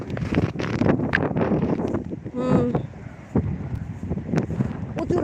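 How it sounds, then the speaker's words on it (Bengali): Strong gusting wind buffets the microphone outdoors in cold, rainy weather, rising and falling in loud bursts, with someone speaking intermittently over it. "প্রচুর বাতাস, প্রচুর,"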